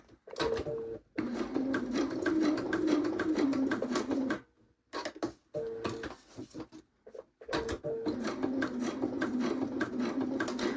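A sewing machine stitches slowly through a raw-edge card wallet with a magnet, running in steady whirring stretches broken by a few short stops and restarts.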